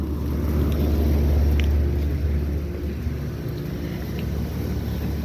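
A 2-ton American Standard Merit condenser unit from 2020 running outdoors at a school, a steady low hum and fan rumble that holds constant throughout, with faint outdoor wind noise.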